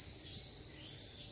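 Crickets at a Vietnamese cricket farm keep up a steady, dense high chirping drone, continuous and fairly close, with no voices over it.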